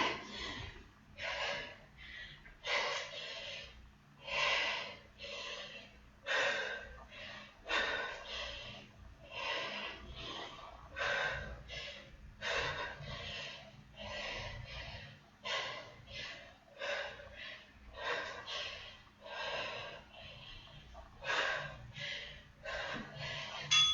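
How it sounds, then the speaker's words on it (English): Heavy, forceful exhales repeat in a steady rhythm during push-ups in a HIIT workout, roughly one sharp breath burst per second, close and loud throughout. "Exhale as you push up."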